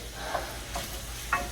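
Shrimp and vegetables sautéing on low heat in a pan, a soft continuous sizzle with a few light clicks and scrapes of stirring, close and quiet, no voices.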